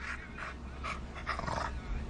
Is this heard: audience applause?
no